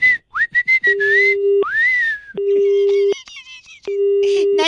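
Telephone disconnect tone after a call is cut: three long, steady, loud beeps separated by short gaps, with whistling and brief vocal sounds in between.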